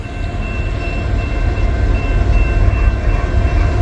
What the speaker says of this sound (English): We got another train coming.